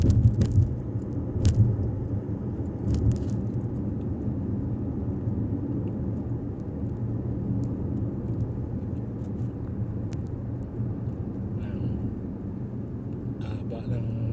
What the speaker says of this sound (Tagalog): Traffic sa pa-exit ng ring road.